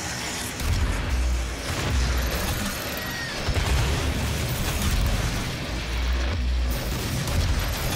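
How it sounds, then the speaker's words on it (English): Rocket explosions in Doom (2016) boom repeatedly through a dense, loud, continuous stretch of blasts and rumbling game action, with no pauses between bursts. "Let's use a little rockets, shall we?"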